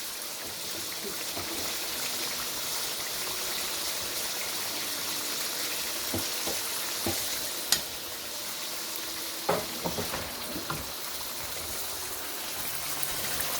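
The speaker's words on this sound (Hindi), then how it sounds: "हमने अभी मसालों को तकरीबन 5 मिनट के लिए भुनाई करनी है इसके अंदर" Spices fry in oil for a chicken karahi, a steady, even sizzle with occasional light knocks and scrapes of stirring, close and no voices.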